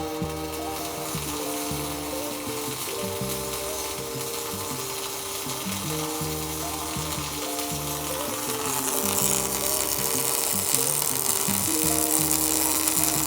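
A Fronius TransSteel 5000 pulsed MIG welder runs a steady arc, giving a continuous buzzing crackle with a regular pulsing hum that grows slightly harsher and louder as the arc is shortened.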